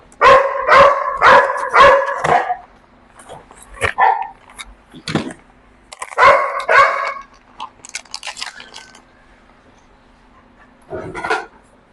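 Dogs bark in loud, rapid bursts close by, a quick run of barks, then scattered single barks and another short burst after a pause.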